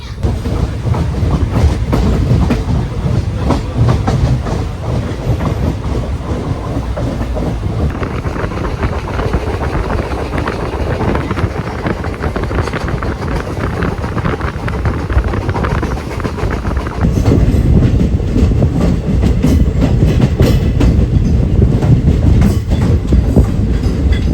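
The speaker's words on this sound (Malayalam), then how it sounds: "ഇതാണ് തിരുവനന്തപുരം നിസാമുദ്ദീൻ ഒരു സൂപ്പർ ഫാസ്റ്റ് ഉണ്ട് വീക്ക്ലി" The weekly Thiruvananthapuram–Nizamuddin superfast express train passing on an Indian railway, a loud continuous roar and rumble of wheels and carriages with wind buffeting, steady and close for the whole stretch.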